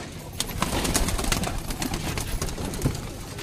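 Pigeons, including a blue-winged hen with a yellow neck ring, coo repeatedly in low throaty bursts nearby, mixed with light rustling and scattered clicks.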